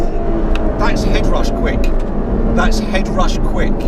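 A Ferrari F12 TDF accelerates flat out, heard from inside as a loud, steady engine roar with road rumble, while people talk over it.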